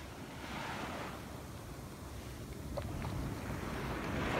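Surf and wind at Ocean Beach, NSW, with heavy waves still pounding a storm-eroded shoreline; a steady broadband roar of breaking water and gusting wind against the microphone, continuous and fairly loud with no voices.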